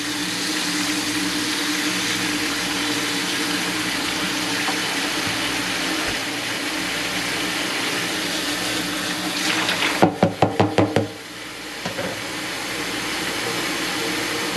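Water runs steadily from the tap into a hotel kitchenette sink after a drain snaking, a constant close rushing flow, broken near the end by a few short clattering knocks before the flow resumes.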